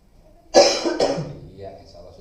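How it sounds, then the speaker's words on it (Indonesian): A person coughs deeply once, loud and close, a harsh burst followed by a second rasping push that trails off into breathy throat noise. "Batukan lagi."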